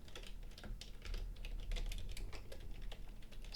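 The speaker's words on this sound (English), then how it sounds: "So I guess I'll just type it." Typing on a computer keyboard while programming a HiFive1 board, quiet rapid irregular key clicks close by with no talking.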